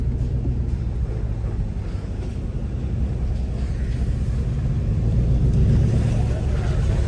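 A Chevrolet Camaro V8 rumbles steadily through the streets of Jurerê, a deep continuous engine drone with wind buffeting the microphone and no clear rise or fall.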